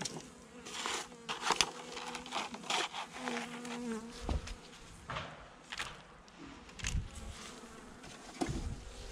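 A honeybee colony buzzes during a November hive inspection, a close, continuous drone of many bees broken by light knocks and scraping of frames and wax.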